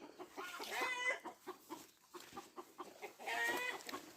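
Several chickens cluck and croak nearby in irregular bursts, with a couple of louder, drawn-out squawks standing out, no talking.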